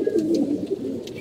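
Pigeons coo in a steady, low rolling murmur that runs unbroken throughout, close and moderately loud, with a brief higher bird note or two near the start and end.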